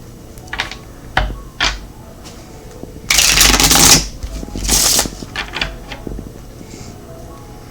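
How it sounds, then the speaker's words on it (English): Cards are shuffled in crisp riffling bursts, a longer flurry in the middle between lighter taps and flicks. "One more shuffle."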